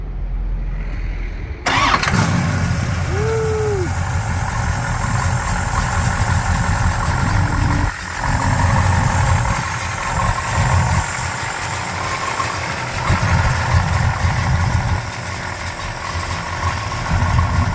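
A 1966 Chevrolet Chevelle SS with a 650-horsepower 454 V8 cranks briefly, fires up and settles into a loud, steady, rumbling idle close to the microphone, with a few throttle swells.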